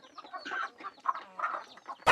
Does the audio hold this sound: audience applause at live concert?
no